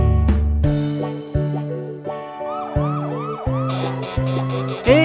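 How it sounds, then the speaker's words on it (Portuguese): A cartoon police car siren in a Portuguese children's song, a loud wailing siren that repeats in a regular rising and falling cycle, mixed with bright musical notes. "Eu sou carro de polícia e estou dando uma volta"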